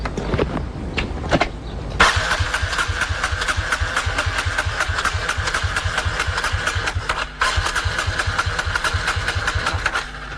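A water-powered motorcycle engine cranks with a few uneven turns, then catches and settles into a loud, steady, rapid-pulsing idle close by, briefly dipping once before carrying on.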